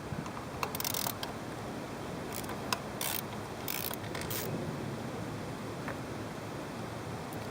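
Bolts are loosened from the thermostat housing of a PT Cruiser with a ratchet, giving short bursts of faint clicking against steady background hiss.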